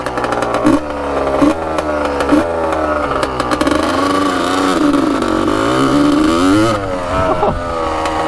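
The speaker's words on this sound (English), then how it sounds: "So let's go take her for a ride. Yeah, she's so loud." A Kawasaki Tecate 3 250cc three-wheeler with a newly fitted exhaust pipe revs loudly up close, its two-stroke engine rising and falling through repeated throttle blips and a sustained high-revving stretch.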